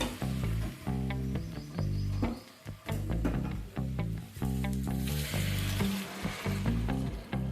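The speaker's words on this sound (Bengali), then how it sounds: "এবার এর মধ্যে আমি গরম জল অ্যাড করে দেব।" Hot water poured into a pan of sizzling chicken and potato masala, a loud close hiss and bubbling surge that rises, dips briefly and swells again over sustained sizzling.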